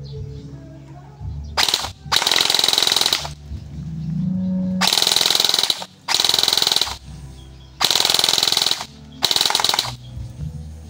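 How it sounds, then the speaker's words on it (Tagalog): An upgraded ARP9 V2 airsoft gun fires on full auto in several loud, close rapid bursts of a second or so each, separated by brief gaps with low background noise. "Test fire, full auto."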